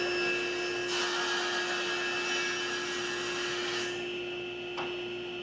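A saw cross-cutting wooden panel pieces: a steady whining motor hum at moderate level, with a few brief louder bursts as the blade passes through the wood.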